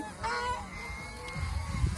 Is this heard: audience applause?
no